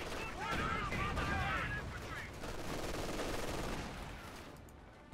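Company of Heroes 2 grenadiers fire on an enemy rifleman in a continuous, rattling volley that fades toward the end, while a commentator talks over it.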